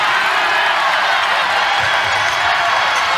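Crowd in a women's college basketball arena at a Gonzaga versus Colorado game, a loud continuous roar of voices with some cheering and clapping, filling the space evenly.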